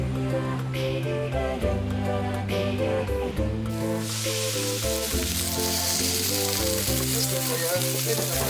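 Sea bream sizzles on a grill on Sasudo, a small uninhabited island south of Chujado, a bright crackling hiss that rises midway and continues under steady music.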